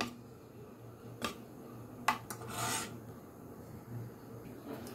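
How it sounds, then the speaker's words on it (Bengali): Pakora pieces are stirred through batter by hand for a Ramadan snack, with soft rasping and rubbing scrapes and a few sharp ticks over a quiet background. "এইভাবে ভালো করে ব্যাটারটাকে মিশিয়ে দেব"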